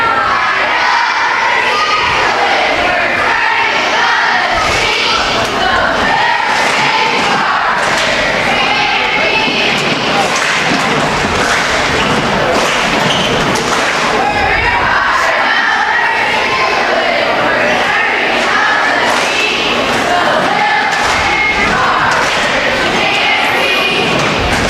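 Cheerleaders perform a shouted cheer at a school basketball game, loud chanting voices mixed with rhythmic claps, stomps and thuds, crowd noise echoing in the gym throughout.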